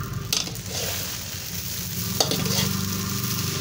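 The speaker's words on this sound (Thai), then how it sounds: "เอาผักลงจ้ะมีผักต้นหอมแล้วก็ผักกาดห่อจ้ะลงไปเลย" Spring onion and lettuce being stir-fried in a hot pan, a steady close sizzle broken by a couple of sharp utensil scrapes and clinks, with no one speaking.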